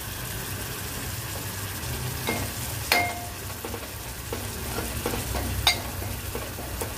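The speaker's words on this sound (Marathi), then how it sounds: "थोडा मसाला हा परतून घेते कच्चेपणा जाण्यासाठी।" Red chili masala and kokum sauté in a pan, giving a steady low sizzle broken by scattered spoon clinks and scrapes against the metal, with a couple of sharper taps.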